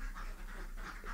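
Ducks on a duck egg farm keep up a steady run of nasal quacks, a dense flock sound that holds at an even level with no voices over it.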